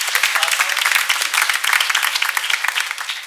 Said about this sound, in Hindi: तो खूब सारी तालियों की हकदार युवराज।